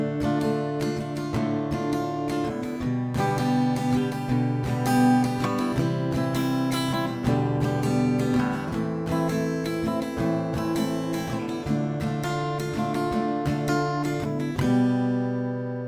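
Acoustic guitar strums the chords of a pop ballad in a steady down-and-up pattern, bright and close, ending on a single ringing down strum, with no voices.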